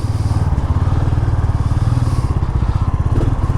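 A 2022 Royal Enfield Classic 350 thumps along while being ridden, its single-cylinder engine giving a steady, loud, close pulsing beat throughout with no talk over it.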